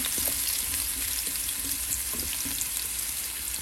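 Bitter gourd sizzles and fries steadily in a pan, a continuous close hiss with occasional scraping knocks as it is stirred, no voices over it.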